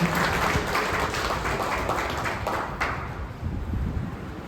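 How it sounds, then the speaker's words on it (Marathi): An audience at a product seminar gives a speaker a round of applause, a loud, continuous patter of many hands that thins slightly toward the end. "सरांसाठी एक जोरदार टाळ्या होते"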